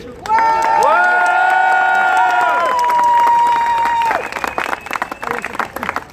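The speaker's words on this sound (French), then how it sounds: "Applaudissez chaudement le prince Jérémy Ier et sa princesse Bérangère." A carnival crowd in Virton, Belgium, cheers and whoops loudly with sustained shouts, then breaks into scattered clapping as the cheering fades.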